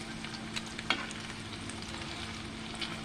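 Salmon croquettes, smashed down flat, fry in a pan with a steady close sizzle and crackle, a few brief clinks standing out over the constant hiss.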